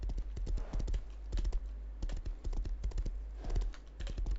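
Horse hooves clip-clopping in the video game Rust, a close, rapid run of irregular thuds and knocks that keeps going across the whole stretch.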